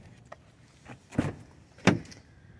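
A 2023 Ford F-150 Lariat's door handle is pulled to unlock, giving two sharp mechanical clunks about half a second apart, close and clear against a quiet background.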